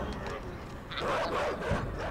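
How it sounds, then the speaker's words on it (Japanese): A dog barking in the video game INSIDE, a few close yapping barks over a steady dark background, with a person talking over them. "やばい、犬が来てる。"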